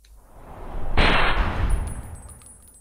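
A rifle fires in Fallout 3, a single loud, sharp report with a short ringing tail that decays over about two seconds.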